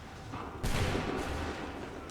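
A sudden burst of massed musket fire erupts partway through in Assassin's Creed III, a dense volley that decays into a rumbling roar.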